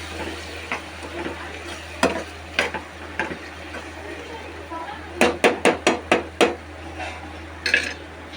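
Mutton head meat going into a pan of frying tomato and onion gravy, giving a series of sharp close clatters and scraping stirs over a steady low sizzle, with a quick burst of knocks in the middle and low hum beneath.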